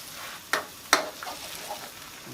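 Egg goes into a pot of simmering clear Thai soup, giving two quick sharp splashes followed by a soft, quiet bubbling simmer.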